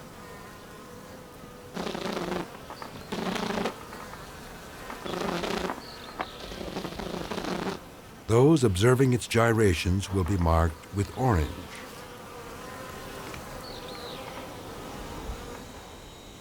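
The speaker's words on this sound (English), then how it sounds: "Back in the hive, the bee spins around as if dancing." Honey bees in the hive give off a steady, dense buzzing that swells and fades in bursts under a narrator's voice, with a louder, closer stretch of humming midway.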